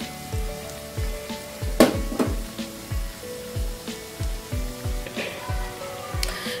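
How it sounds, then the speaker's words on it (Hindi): Cauliflower gobi pakora fry in hot oil with a soft, steady sizzle, punctuated by a regular rhythm of low dull knocks and occasional brighter clinks close by. "अब इस तरह मैं दूसरी साइड से भी इसको गोल्डन करूंगी, गोल्डन ब्राउन कर लेंगे इसको फ्राई करके"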